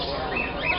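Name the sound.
African grey parrot calling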